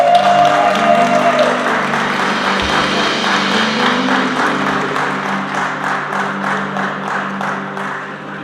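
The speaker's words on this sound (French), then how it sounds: "Est-ce qu'on peut l'applaudir?" Guests at a civil and religious wedding break into sustained applause, a dense wash of clapping from an audience that settles into a rhythmic beat and slowly eases off.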